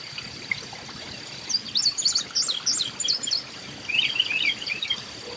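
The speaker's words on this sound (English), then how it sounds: "Here we have a juvenile still begging for food as the parent seems to be trying to wean this year's hatchling from being fed" Juvenile backyard bird begging its parent for food in summer: bursts of rapid, high chirps and twitters in two clusters, fairly close, over a soft outdoor hiss.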